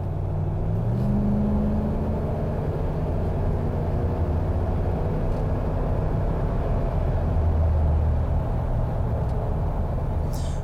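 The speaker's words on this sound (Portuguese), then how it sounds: "E olha como é gostoso o barulho do motor." A RAM Classic pickup with a Hemi gasoline engine accelerates on the road, giving a steady, loud, low engine rumble mixed with road noise from start to finish, with no talking.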